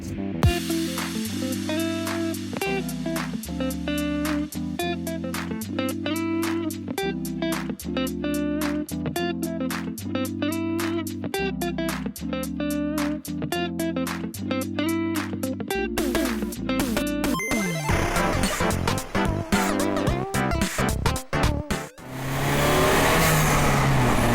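Peugeot RCZ engine fitted with an aftermarket blow-off valve, revving in loud quick repeated bursts with sharp hissing releases, then a final long rev and fade, close up with no talk.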